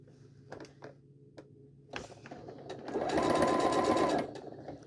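A sewing machine stitches the seam of a quilt block for an Heirloom Bloom block, running in one steady, fairly close burst of rapid whirring after a few scattered soft handling taps and bumps.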